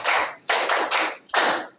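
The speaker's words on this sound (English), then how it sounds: "So we should clap and welcome our madam." An audience at a university association launch claps to welcome a guest of honor, delivering three loud bursts of clapping separated by short pauses, with no talking.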